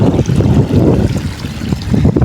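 Rainwater pours off a ledge like a mini waterfall in a village during monsoon rain, a steady rushing low splash mixed with gusty wind noise, continuous and close.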